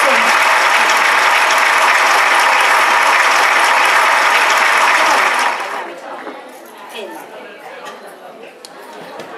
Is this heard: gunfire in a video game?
no